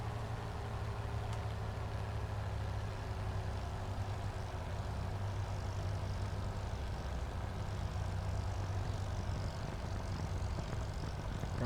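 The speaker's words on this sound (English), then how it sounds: "You hear the engine starts to cough and splutter around 100 100 miles per hour" A Hawker Hurricane Mk I propeller engine in a flight simulator game drones at a constant pitch throughout, a low continuous hum with no voices.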